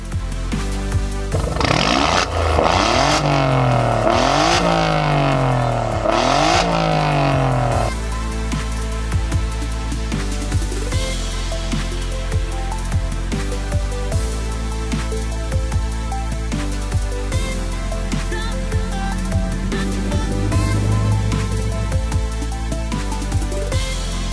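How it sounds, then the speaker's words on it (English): A 2018 Alfa Romeo 4C roars through several loud, rising and falling revs close by during a 4C Passion Meeting in Interlaken, then settles to a steady idle with small blips. "let's hear the car. Let it roar."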